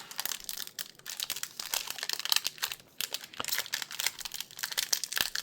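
A Magic collector booster pack wrapper being opened, close and continuous crinkling and tearing of the foil with sharp crackles throughout.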